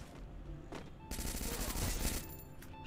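Bursts of rapid gunfire in a shooter video game, sustained and fairly loud through the middle of the moment, with a few sharper single shots before and after it.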